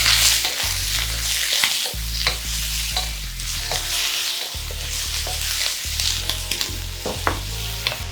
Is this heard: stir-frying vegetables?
yes